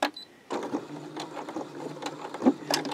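A domestic sewing machine stitches a quilted fabric key fob, starting with a short back stitch: a steady motor whir with rapid needle clatter, close and fairly loud, beginning after a brief pause.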